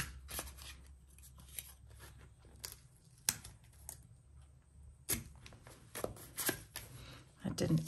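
Scissors snipping gray polka dot bow washi tape while setting up a B6 Stalogy journal, several quiet, close cuts with crinkling and rustling of tape and paper between them, no speech.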